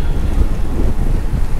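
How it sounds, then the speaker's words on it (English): Strong wind buffets the microphone outdoors during an e-bike ride on a Trek Verve 2 Plus 2023, a loud continuous low rumbling roar with no talking. "Windy now."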